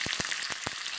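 Chicken fries over high heat in oil with garlic and ginger, giving a steady sizzle with a few soft, low knocks from stirring, close and alone with no voices.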